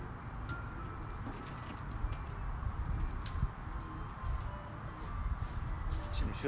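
Pigeons coo softly in the background near a bird catcher on grass, low murmuring calls under steady outdoor noise and occasional handling sounds.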